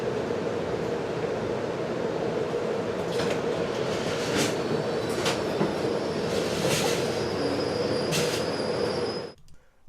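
Passenger train on the Coast Starlight route rolling slowly into San Luis Obispo station, a steady rumbling roar with brief high wheel squeals and clanks, heard alone and close before cutting off at the end.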